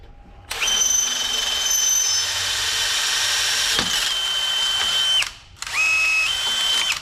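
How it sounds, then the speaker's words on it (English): Power drill boring holes in thick steel for tapping, a loud steady whine running about four and a half seconds, a brief pause, then a second shorter run with the motor pitch shifting. "So I'm going to start drilling that out right now and tap those holes."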